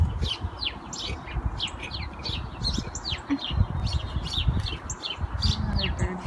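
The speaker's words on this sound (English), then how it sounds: "Another bird fight happening to my left right now" Small birds chirp and tweet in quick repeated bursts near a front porch in early February, likely a squabble with a cardinal among them, set against a steady low rumble of outdoor background noise.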